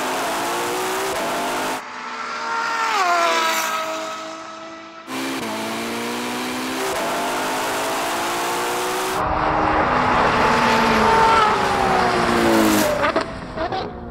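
A Ferrari Purosangue, 812, SF90 and 296 GTB drag race, heard as loud engines revving and pulling hard through gear changes with rising and falling tones, in several abrupt segments, with roaring acceleration toward the end.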